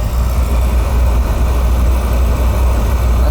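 A Carlin oil burner motor with running issues, turning over slowly, gives a steady, loud, continuous drone with no breaks.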